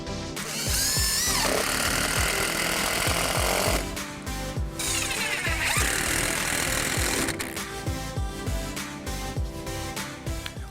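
A power tool drives screws into the wooden framing of a playhouse kit, whirring loudly and close in sustained bursts with brief pauses between runs.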